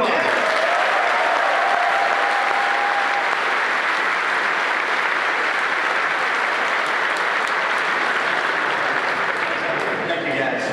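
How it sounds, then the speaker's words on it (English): Loud, sustained applause and cheering from a large audience at a Star Wars: The Old Republic panel at the PAX gaming convention, steady clapping filling the hall for over ten seconds with voices mixed in. "Give them all a round of applause."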